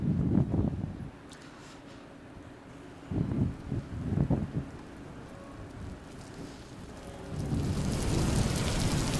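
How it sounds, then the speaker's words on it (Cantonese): Rain falls steadily at a school celebration performance, with loud rushing bursts near the start and middle, then heavy rain building and holding to the end, rumbling like thunder and wind, with no talking. "放學先嚟落雨，唔通連個天都唔中意我？"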